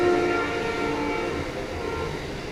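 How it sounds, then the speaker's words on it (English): A train rolls past the Lee Hall depot in Virginia, a steady close rumble with a drawn-out horn tone, heard alone without speech. "Here comes the train."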